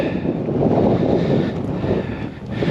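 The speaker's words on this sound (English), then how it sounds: "the wind's really driving in from my left, really pushing me off the path" Strong wind on open Dartmoor moorland near Princetown buffets the microphone in a loud, continuous roaring rumble that surges and eases without a break.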